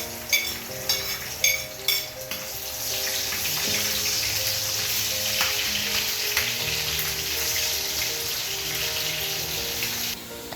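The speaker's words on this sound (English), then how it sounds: "I'm going to first of all add a little salt and onions." Onions and salt hitting a hot pan for an egg and yam stew: a few quick clinks, then a loud, steady frying hiss that holds close and alone throughout.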